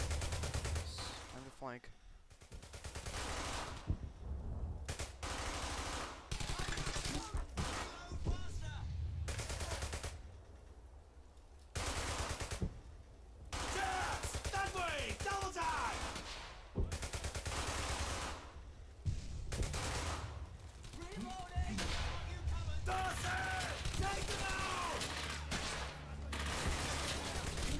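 Gunfire in the World War II shooter Brothers in Arms: Hell's Highway, with repeated loud bursts of rifle and machine-gun fire broken by short pauses, and a voice speaking between volleys.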